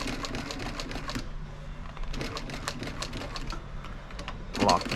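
A sewing machine stitching seat upholstery for a 1978 Ford F100 runs in steady rapid bursts, close and moderately loud, with brief pauses between runs and background shop noise.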